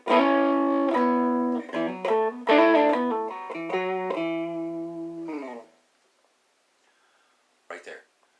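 Clean electric guitar chords and notes ring out through a Tx-Watt tube hybrid amp with a compressed, bright tone, several strummed phrases for about five seconds before fading, followed by a brief noise near the end.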